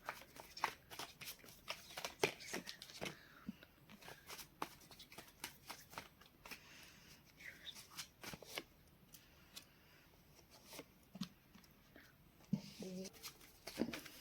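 Tarot cards shuffled by hand close up, in a quick run of crisp riffling snaps and soft slides that continues throughout, fairly quiet.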